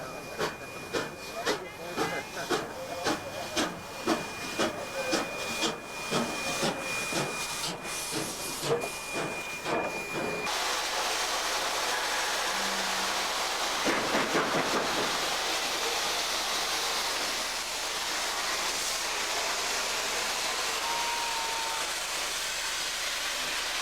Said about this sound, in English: 3830 runs into the Rail Transport Museum compound to be turned